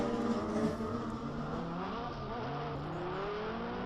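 Touring-class race cars with Mercedes and Renault engines, one a Clio, roar past in a dense, continuous engine drone at a French circuit, with overlapping revs and no talk.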